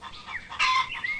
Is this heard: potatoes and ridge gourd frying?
no